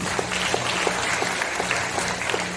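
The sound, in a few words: audience applause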